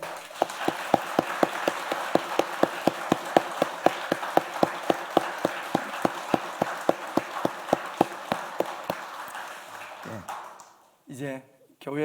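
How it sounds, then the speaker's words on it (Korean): A church congregation at an Easter Sunday service claps in loud, steady unison beats, then the clapping stops and voices follow briefly. "그렇게 크게 박수 해주시기 바랍니다."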